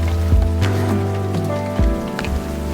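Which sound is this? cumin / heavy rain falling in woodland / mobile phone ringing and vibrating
heavy rain falling in woodland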